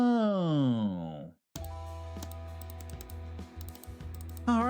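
Clattering keyboard typing from the video game Limbus Company ticks in quick, uneven bursts over a steady electronic hum, after a synthesized voice-like tone sweeps down and briefly cuts to silence.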